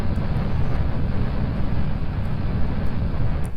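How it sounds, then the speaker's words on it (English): Rocket engines fire continuously in Kerbal Space Program, giving a steady loud broadband roar with low rumble that holds unbroken throughout, with no talk over it. "Sounds like the engines are still going to the moon."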